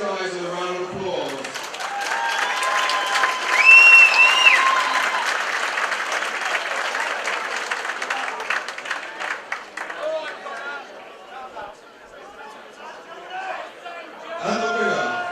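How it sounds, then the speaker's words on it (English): A crowd at a stadium fight event applauds and cheers loudly, with dense clapping and chatter peaking early and then thinning out, while an announcer's amplified voice carries over it at the start and end. "let's give these guys a round of applause."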